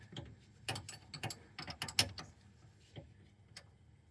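A line wrench ratchets and clicks against a fitting on a C3 Corvette's power steering control valve, giving a quick uneven series of close metallic clacks and scrapes with no talking.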